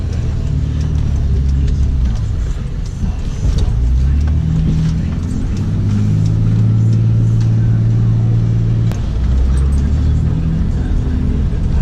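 A car drives along a bumpy road through flood-damaged Houston after Hurricane Harvey, with a loud, continuous low engine and road rumble, shifting tones as it speeds up and slows.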